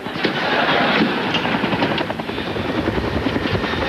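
A helicopter flies close by a chopper pad, its rotor thudding in a steady, loud rapid chop that fills the whole stretch without pause.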